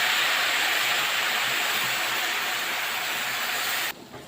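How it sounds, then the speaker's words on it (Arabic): Soup broth poured into a pot of cooking rice, heard as a loud, steady hissing sizzle that cuts off abruptly near the end, no talking. "هبدا انزل بالشوربه كده زي ما انتم شايفين"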